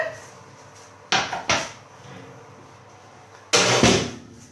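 Bread being taken out of the oven: two quick clanks of the oven door and tray, then quiet, and a later louder bang with a scraping clatter nearby.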